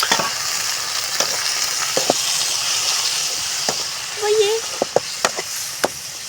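Tomato and green chili frying in an outdoor village cooking pan, a steady sizzle and hiss with occasional sharp ladle clinks and stirring knocks, close by, with a brief voice in the middle.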